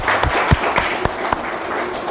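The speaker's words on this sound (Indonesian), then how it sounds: "Tepuk tangan dong" Studio audience on an Indonesian Ramadan health talk show claps briefly, with a handful of distinct, evenly spaced hand claps over a light background murmur.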